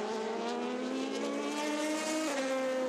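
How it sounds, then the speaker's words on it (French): Race cars at the 24 Hours of Le Mans 2019, a Porsche and a Ligier of the Panis Barthez team, entering the pit lane, their engines giving a loud, steady drone that shifts pitch near the end, with no talk. "alors que deux voitures entrent au stand, dont une Porsche et une Ligier du team Panis Barthez"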